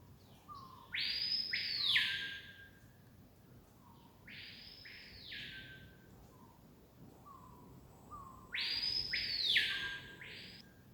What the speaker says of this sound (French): vous pouvez bénéficier des sons des oiseaux